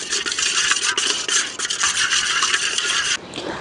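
Spoonful mixing of a thick marinade masala of Kashmiri chili, black pepper powder, ginger-garlic paste and salt in a bowl: steady, close scraping and rubbing that runs continuously, then eases off briefly at the end.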